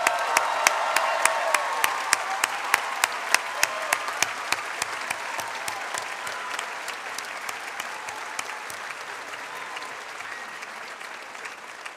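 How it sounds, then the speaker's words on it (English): A graduation crowd under a tent gives sustained applause for the graduating seniors at the Noble and Greenough School ceremony, steady dense clapping with a few sharper claps that slowly fades over twelve seconds. "Give one more round of applause for all of our graduating seniors."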